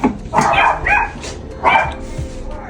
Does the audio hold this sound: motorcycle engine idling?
no